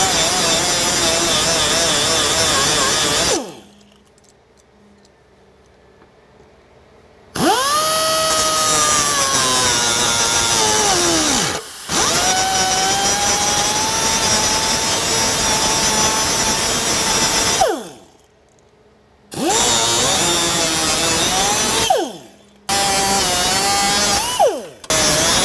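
An air tool grinds studs off the body of a 2016–2018 Jeep Wrangler JKU Rubicon in a shop, a loud continuous abrasive whine in long bursts that repeatedly stop and restart, with no talking.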